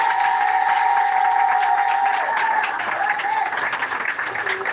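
Church congregation applauding and cheering during a Sunday sermon, a steady dense wash of clapping and crowd noise that holds throughout and eases slightly toward the end.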